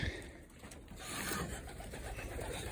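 Pigeons coo softly at a loft as they return from training flights, a faint low murmur under steady background noise.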